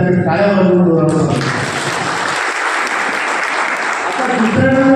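Loud, dense applause from an audience rises abruptly and rolls on steadily, with speech at the start and end and clapping underneath.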